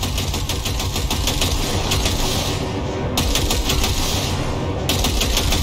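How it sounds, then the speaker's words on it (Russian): Automatic gunfire in Cyberpunk 2077 rattles out in rapid, loud bursts of closely spaced shots, with brief breaks between volleys and no voices. "Дай по ней короткую очередь."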